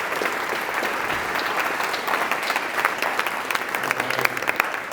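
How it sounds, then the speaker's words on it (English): Sustained applause from a business luncheon crowd of the Hispanic Chamber as a lieutenant general is welcomed to the podium, many hands clapping in a thick, steady roar that stays level throughout, with a faint murmur low underneath. "please give a big round of applause"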